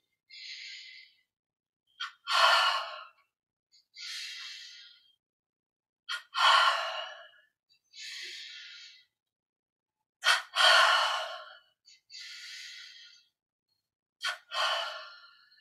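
Repeated double inhalations during a yoga-style exercise: pairs of quick sharp breaths in followed by longer breathy exhales, close and clear in a quiet room, with no speech.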